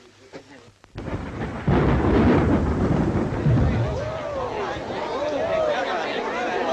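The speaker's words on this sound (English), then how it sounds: "Why, yes, it is. It's raining." Rain pours and thunder rumbles in a 1941 British film, a sudden loud crash that rolls into steady rain noise beneath voices talking.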